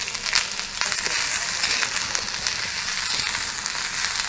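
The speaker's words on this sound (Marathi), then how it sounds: "तेल थोडं गरम झालं की हा कांदा चांगला असा ब्राऊन कलरवर भाजायचा" Onion frying in hot oil until dark brown gives a steady, close, loud sizzle with a crackling hiss throughout and no talk.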